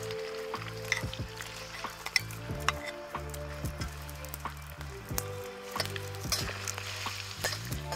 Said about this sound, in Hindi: लहसुन हमारा थोड़ा सा ब्राउन हो गया है, इसी के साथ हम इसके अंदर डाल देते हैं चिकन को।